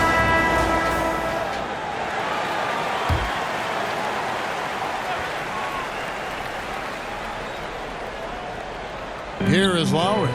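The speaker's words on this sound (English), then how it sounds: "Please give a big round of applause for your Bucks youth dancing." An arena crowd in the basketball video game NBA 2K24, Bucks vs Heat, applauds in a steady, broad wash of clapping and cheering. A voice is heard briefly at the start and again near the end.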